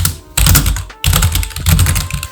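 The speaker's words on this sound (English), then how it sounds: "the satisfaction of clicking buttons on this mechanical keyboard is different" Keys clacking on an EvoFox RGB mechanical keyboard, close and loud, in quick bursts of clicky keystrokes with a short pause in between and no voices.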